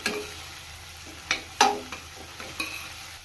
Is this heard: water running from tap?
no